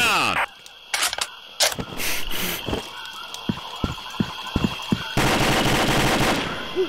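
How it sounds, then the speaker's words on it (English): Gunfire in the Combat Arms shooter, with a series of sharp separate shots and short bursts, some loud and near, others softer, under players talking over voice chat. "I heard a shot right there."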